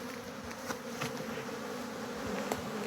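Bees in a large swarm buzz steadily in a low, continuous drone, with a few individual insects zipping past more closely, all at a quiet level.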